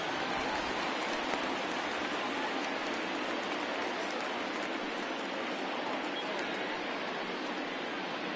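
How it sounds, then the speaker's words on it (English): Steady rain falls at a baseball stadium, a soft, even hiss that continues throughout without pause. "Continues to rain here."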